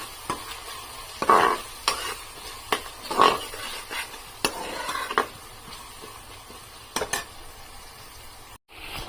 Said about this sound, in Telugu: ఒకసారి నూనెలో వేగేంత వరకు ఇది 1 minute అలా నూనెలో పోపులో వేగించుకోవాలి ఆయిల్లో